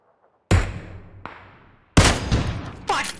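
Gunshots from a war-mode video game come as sharp, loud bursts. One blast rings and decays, a second follows, and then a rapid cluster of shots fires near the end, opening after a brief quiet start.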